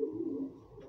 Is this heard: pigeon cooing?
yes